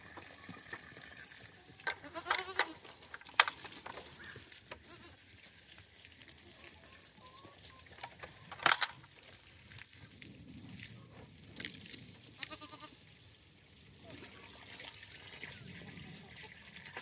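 Baby goats bleat in a few brief calls at a farm, mid-distance, over a low background of trickling water while a person moves about nearby.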